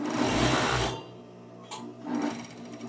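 Sewing machine stitching a jacket, a close, dense motor whir for about a second, then a pause and a shorter second burst as it speeds up again.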